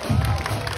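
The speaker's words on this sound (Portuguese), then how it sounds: "palmas para a Bianca" Spectators at a traditional independence parade in Turiaçu cheer and applaud for a schoolgirl marching by, a short, dense swell of crowd noise.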